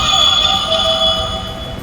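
A DX Ultraman Teo Crystar toy giving its switch-on sound, a short, steady, bright electronic tone with a buzzing edge, close and alone.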